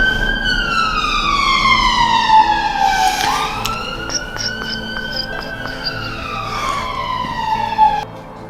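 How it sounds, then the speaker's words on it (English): A wailing emergency siren sweeps slowly down and back up in pitch over steady traffic rumble, loud and continuous throughout. "Siren."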